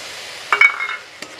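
Spiced tomato masala with salt and turmeric being stirred and fried in a pan, a soft steady sizzle broken by a few close scraping stirs and a light clink of the spoon against the pan.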